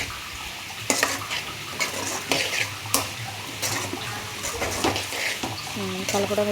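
Egg curry with turmeric is stirred and fried in a pan: a spoon scrapes and clinks against the pan in repeated strokes over a low sizzle, close and fairly loud, with a voice briefly heard.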